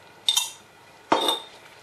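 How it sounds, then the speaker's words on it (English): A utensil stirs a spicy chili dish in a pot, giving two separate sharp metallic clinks about a second apart against a quiet background. "So you just stir them all up like that"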